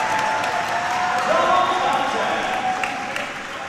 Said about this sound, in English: that's probably the loudest I've heard the crowd all night so far